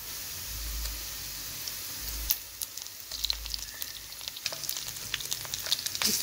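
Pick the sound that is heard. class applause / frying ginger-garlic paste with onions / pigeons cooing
frying ginger-garlic paste with onions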